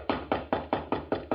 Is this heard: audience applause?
no